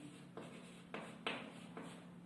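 Pen scratching across paper as a Hindi maths teacher writes out a class 8 quadrilateral problem, a few soft strokes in short bursts over a steady low hum, close and quiet, with no talking.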